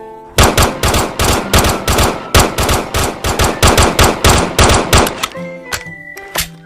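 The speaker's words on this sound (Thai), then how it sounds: "นี่ประมาณนี้นะครับผมสำหรับตอนยิงนะแล้วก็ตอนรีโหลดด้วย" Rapid bursts of close, loud gunfire from the Gun3D gun add-on in a video game, fired in dense repeated volleys, then a few mechanical clicks and clacks of reloading near the end, no talking.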